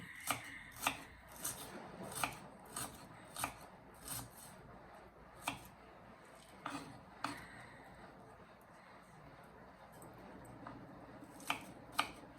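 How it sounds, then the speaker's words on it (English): A white onion being chopped into small chunks for guacamole: a dozen or so crisp, irregularly spaced knife strikes, close and fairly quiet, with short pauses between bursts and no voices. "I'm cutting the onion into small chunks, and I am using a white onion"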